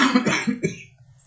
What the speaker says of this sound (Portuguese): Olha a minha tosse de novo.